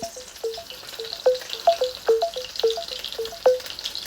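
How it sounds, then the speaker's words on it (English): Sausages sizzle in a hot dark frying pan with liquid and steam, a soft steady hiss broken by frequent small pops and spits. "Several sausage links cooking in a dark frying pan with liquid and steam."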